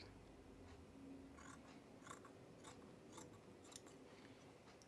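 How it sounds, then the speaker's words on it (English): Scissors snipping through fabric while trimming pieces cut for Mitchell trousers, a series of faint, crisp cuts at an irregular pace, close and quiet with no talk. "I'm only trimming a few because like only a couple are a big overlap."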